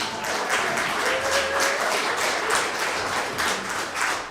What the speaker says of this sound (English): We need to get a round of applause for Haiti Action Committee.